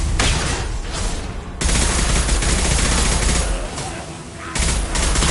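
Combat gunfire in the video game Mass Effect 2, with loud sustained bursts of rapid shots broken by brief lulls before firing resumes.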